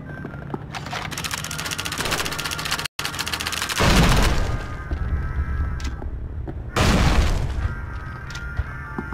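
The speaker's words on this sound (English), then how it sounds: "You're supposed to throw the grenade, not the pin." Explosions and gunfire in a PS2 war video game, dense crackling battle noise with two heavy deep booms a few seconds apart, loud and continuous.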